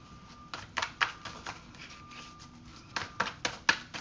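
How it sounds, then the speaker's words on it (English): Tarot cards being pulled from a deck during a reading, soft quick flicks and slaps in small clusters, close and fairly quiet. "So I could just keep pulling out cards"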